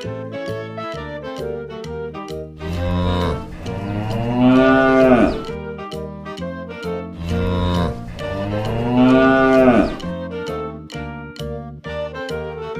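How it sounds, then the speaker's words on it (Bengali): A cow and calf standing together give two long, low, drawn-out moos a few seconds apart, loud and near, over a steady musical backing with no speech. "গরু বাছুর দাঁড়িয়ে আছে।"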